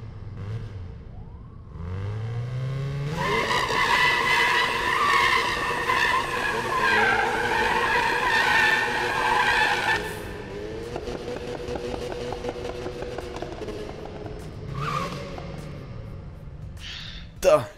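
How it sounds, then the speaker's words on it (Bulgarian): Rotary-engined cars in Need for Speed 2015 rev hard in sustained rising and falling whines, with a tire skid and bursts of throttle, a voice talking over the first moments. "пускай си двигателя и да чуем твоята колица"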